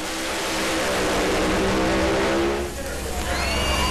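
Top alcohol funny cars at a drag race in Pomona, a roaring, high-revving engine blast that dips briefly before a second wave of engine noise, loud and close.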